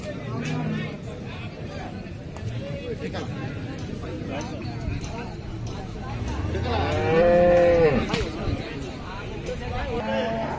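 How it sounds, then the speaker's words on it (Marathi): A large cow gives a long, deep moo partway through, heard over background chatter and crowd noise at a cattle market in Baramati. "ही पण मोठ्या मापाची मोठी गाय आहे"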